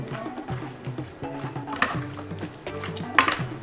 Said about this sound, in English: I'm gonna be mixing it up